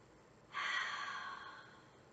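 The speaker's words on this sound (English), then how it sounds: "And breathe." A single long exhale during an adaptive yoga pose, breath rushing out close to the mic for about a second and a half before fading into a quiet room.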